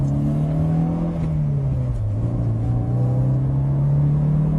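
A Mercedes-Benz car on the Euro Speedway circuit accelerates with a steady, loud engine drone, its pitch dipping briefly in the middle as it shifts up a gear, then climbing again.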